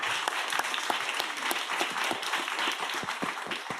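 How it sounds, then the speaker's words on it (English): Audience applause at a roundtable on Indigenous rights and climate litigation: dense, steady clapping from many hands that holds at an even level for the whole stretch, with no voices over it. "you can applaud that."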